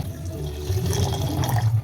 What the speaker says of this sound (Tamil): இப்போ அதுக்கு முக்கால் கப் அளவுக்கு தண்ணி வந்து சேர்த்துக்கலாம்